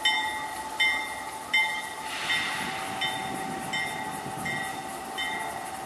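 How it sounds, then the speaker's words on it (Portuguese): A helper locomotive couples to the tail of a freight train hauled by an AC44i locomotive, with a few heavy metallic clanks and a steady engine hum with tonal whine, fairly distant. "E o Helper vai lá e engata na cauda do trem."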